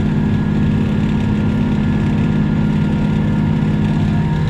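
A tractor pulling a seed drill while planting peas drones steadily at close range, a low constant rumble with no speech and no change in pace throughout.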